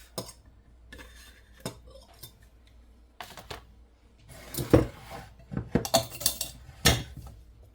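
Spoon scrapes and stirs sourdough starter in glass jars, mixing the liquid hooch back in: scattered close clinks and scrapes that grow busier and louder toward the end, with no talking.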